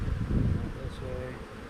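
Honey bees buzzing in a dense, continuous drone from an open hive during an inspection, close and steady, with a brief faint higher tone partway through.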